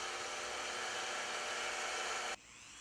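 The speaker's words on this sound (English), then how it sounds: "I go ahead and use my belt sander to clean up anything on the casting that I don't want." A belt sander cleans up an aluminum sand casting, giving a steady, loud whirring drone that cuts off abruptly near the end.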